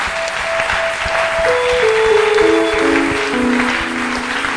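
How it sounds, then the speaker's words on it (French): A church congregation applauds during a worship service, the clapping running under sustained organ or keyboard tones. "Nous allons les encourager par nos acclamations."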